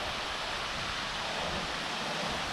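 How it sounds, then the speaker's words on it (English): A waterfall roars as a steady, dense wash of broadband noise, continuous and fairly close, with no voices over it. "That is a neat waterfall."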